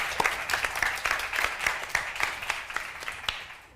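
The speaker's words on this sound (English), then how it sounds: "Please welcome back in a big round of applause" A conference audience claps in a modest, fairly even round of applause that fades toward the end, with a few louder individual claps standing out.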